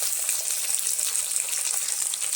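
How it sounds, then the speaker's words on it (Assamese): Tomatoes fry in hot oil with a steady, bright, hissing sizzle, close and continuous for a few seconds, no voices. "এতিয়া ধুনীয়াকৈ মই ফ্ৰাই কৰি আছো"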